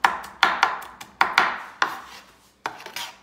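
Knife chopping onions into small pieces on a cutting board, seven or eight sharp close knocks in an uneven rhythm with brief scraping tails, clear and alone.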